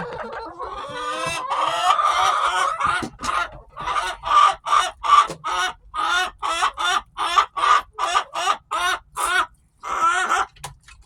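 Pet chickens cluck and crow in a steady run of loud, close, rhythmic calls during their daily feeding of canned dog food, one bird after another with barely a pause between.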